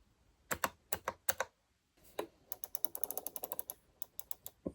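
Shortcut keys on a Veikk Voila L drawing tablet click in quick, crisp bursts: a few separate presses, a short pause, then a rapid run of light tapping clicks, close and fairly quiet.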